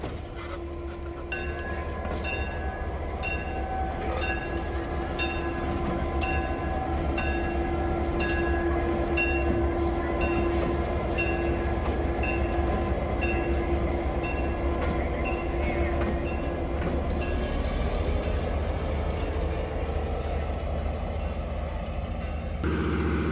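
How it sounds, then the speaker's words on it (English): Passenger rail cars of a heritage railway in Chattanooga, Tennessee roll past with a steady, rhythmic clickety-clack of wheels over rail joints above a sustained humming tone, loud and unbroken. "So that's the train cars we rode in on."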